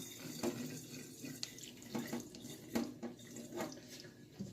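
Water is poured out of a container of soaked grain, prepared as spawn for growing mushrooms. It comes through as faint, soft splashing and sloshing in irregular bursts, quiet and close.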